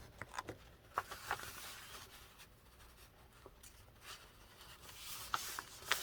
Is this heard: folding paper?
yes